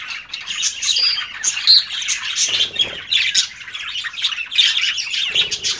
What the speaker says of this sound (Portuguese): bora ouvir o canto aí do nosso periquito aí, ó.